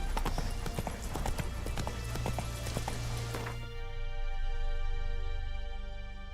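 Hoofbeats of Roach, Geralt's horse in the video game The Witcher 3, clip-clop in a quick rhythmic gallop over a steady low rumble, then fade as the hooves slow and stop, leaving a sustained ambient tone.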